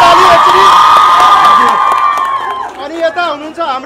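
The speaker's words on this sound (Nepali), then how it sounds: "यस गौरव सरको लागि जोरदार ताली एकचोटी" Loud audience cheering and applause at a hall event, with crowd shouts and whoops, fading into scattered voices and chatter toward the end.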